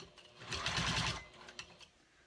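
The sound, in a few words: Juki 2000 QI sewing machine top stitching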